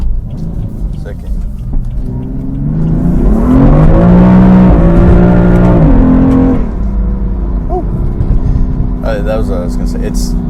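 A modified BMW M3 engine revs up loudly from the cabin as the car drifts through a corner, swelling to a sustained peak and then dropping back to a rumbling idle, with a few pops near the end.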